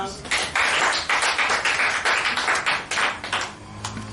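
A church congregation applauding for Jesus, rhythmic bursts of many hands clapping in quick regular waves, fairly loud and close, with voices mixed in among the claps.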